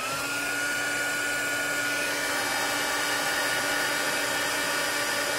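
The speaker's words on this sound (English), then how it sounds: "I'm going to use the heat tool very quickly to set this clear embossing powder" Heat tool blowing steadily to set clear embossing powder on paper, a continuous loud whirring fan hiss with no pauses and no speech.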